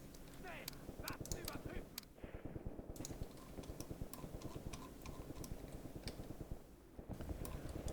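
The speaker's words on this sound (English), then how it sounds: "Small arms fire." Small arms fire in the WWII tactical game Graviteam Tactics Mius Front, a dense rapid crackle of gunshots over a steady rumbling background, with a couple of brief lulls.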